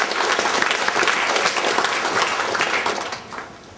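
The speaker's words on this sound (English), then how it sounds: "an applause for all who brought their works here" Audience applauding at the opening of a European sculpture exhibition in Edsvik, a dense, steady burst of clapping from a crowd that carries on evenly before thinning out near the end.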